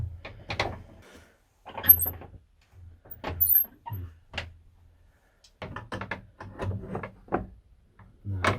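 An old church door lock at St Thomas Becket Church is worked open by hand, giving irregular bursts of metallic clicks, clunks and rattles separated by short pauses, close and fairly quiet.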